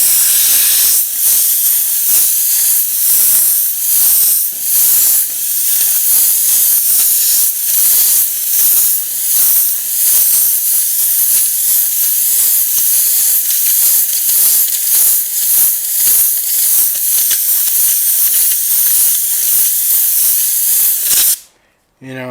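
Continuous close airbrush hiss spraying paint in dagger strokes for about twenty seconds, with slight pulsing in intensity, ending abruptly.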